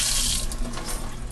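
Filtered tap water runs into a kitchen sink to rinse freshly made homemade butter, a close, steady splashing stream with no voices.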